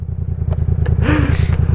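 A motorbike engine idles steadily and close by, with a low pulsing rumble running throughout, some light clatter, and a brief rise in pitch partway through.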